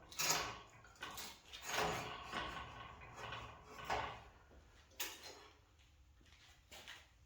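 An adjustable tool rest is slotted into a 2x48 belt grinder with a handful of hollow metallic clunks and sliding knocks at irregular intervals, moderately close, the last ones quieter.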